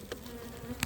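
Honey bees at a hive in winter give a faint, brief buzz, with a couple of sharper close passes near the end and no talking.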